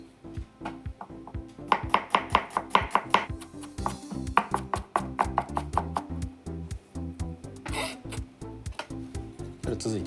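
Garlic minced with a knife on a cutting board, a fast run of sharp, close chopping taps in rapid rhythmic bursts, clear and prominent with a brief pause midway.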